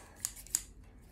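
Scissors snip twice through a printed sticker sheet, two crisp close cuts about a third of a second apart, followed by a faint third snip in a quiet room.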